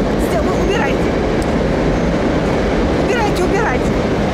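Inside a Ukrainian metro station, a train rumbles through with a loud, steady roar of wheels and motor, faint squeals and clicks riding on top, and voices talking in the background.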